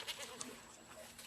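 Faint, brief goat bleats in the background, a couple of short calls over a quiet, hissy scene.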